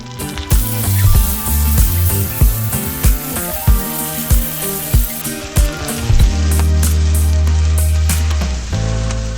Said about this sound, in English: Sear the tomahawk steak for about 4 minutes, flipping every minute so that each side gets really nice browning and crust without burning it